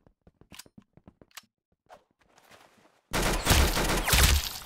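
Gunfire in the Roblox game Arsenal, with a rapid series of sharp, dry weapon shots followed by a pause, then a sudden, loud, sustained burst of heavy firing.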